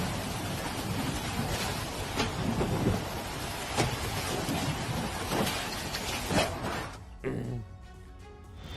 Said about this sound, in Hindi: अमेरिका के अल्बामा में भीषण तूफान आया है